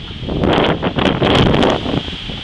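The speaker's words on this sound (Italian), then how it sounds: "il rombo del vento con un'altra raffica pesantissima" Heavy wind gusts roar through bending trees during a violent summer thunderstorm with a downburst, a loud continuous rushing surge that buffets the microphone, swelling and easing over a couple of seconds.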